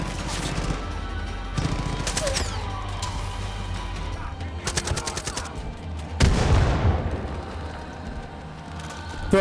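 Gunfire in the video game Far Cry 5: several sharp bursts of rapid automatic shots and a heavy crashing blast, loud and close, spread across the clip.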